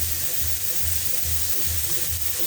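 Bottle gourd peel fries in hot oil in a pan with no spices, giving a steady bright sizzle with soft stirring scrapes and a low pulsing rumble underneath, close by and continuous.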